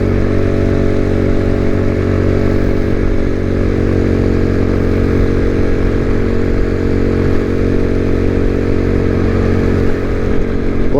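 An IceBear MadDog motorcycle rides along a city road, its engine droning loud and steady the whole way with a constant mid-pitched rumble and no talking.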